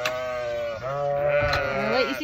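A flock of spoiled sheep bleating during morning feeding, several overlapping close, drawn-out bleats with a wavering pitch, loud and continuous over farmyard background.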